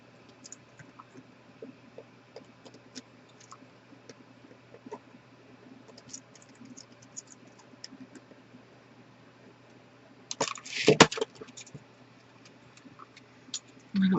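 A dull X-Acto knife cuts through a self-adhesive bling rhinestone sheet, giving faint close ticks and clicks followed by one brief, louder scraping crackle near the end over a quiet room.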